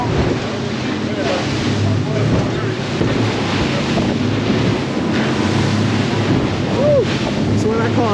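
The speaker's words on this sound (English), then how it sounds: "I'm literally standing on the edge right now, breaking these waves and like nothing" A 2022 HCB 53 Suenos boat runs through ocean swell, its hull slapping and breaking waves amid loud roaring wind buffeting the microphone and rushing water, with a voice faintly under the noise.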